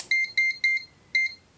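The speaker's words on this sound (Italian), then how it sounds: "emette qualche bip e non c'è più il simbolo dell'autospegnimento" A digital clamp meter sounding short sharp electronic beeps as it powers on with the function button held to disable auto power-off, a quick rhythmic burst of beeps, a pause, then one more beep, close and clear.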